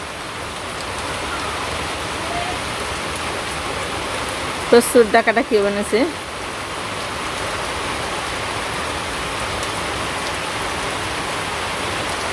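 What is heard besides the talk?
rain falling outside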